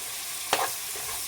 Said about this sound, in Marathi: कांदा थोडासा परतून घेऊयात